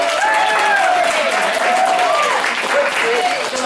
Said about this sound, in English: Now everybody stand up and clap for Kimmy.